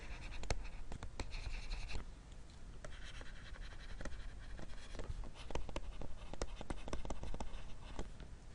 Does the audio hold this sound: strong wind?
no